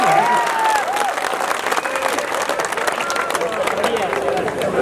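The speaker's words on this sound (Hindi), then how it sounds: "तालियां जरा मिलके बजा दे" Applause from the audience at a Hindi poetry gathering, a kavi sammelan in Nohar: dense, steady clapping throughout, with voices and crowd chatter mixed in.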